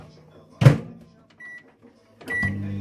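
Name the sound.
microwave oven heating food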